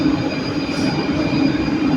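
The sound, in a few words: Skoda metro train passing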